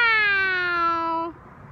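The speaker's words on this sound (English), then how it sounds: "Meow." A cat gives a single drawn-out meow, clear and close, tapering off and ending abruptly, followed by quiet.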